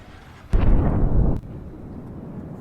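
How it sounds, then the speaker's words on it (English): A single deep, rumbling torpedo explosion against a cargo ship bursts out suddenly and roars for about a second before dropping back to a low background rumble. "Two explosions were heard"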